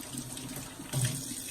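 A kitchen tap runs steadily into a sink, a continuous close splash that swells slightly louder partway through as the flow changes.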